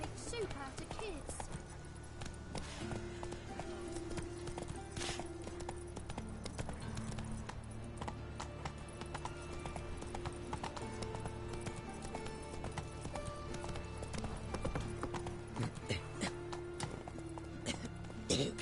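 Roach, a horse in The Witcher 3, gallops with a fast, steady clip-clop of hooves that runs throughout beneath game music and ambient sound.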